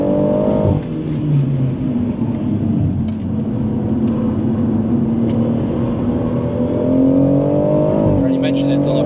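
A 620hp BMW M140i accelerates hard at high speed on the Nürburgring, its engine a loud steady in-car drone rising in pitch with shifts, while people talk over it.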